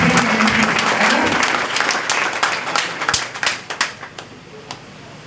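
An indoor crowd gives a hardworking girl a burst of clapping, dense at first, then thinning into scattered individual claps that die away.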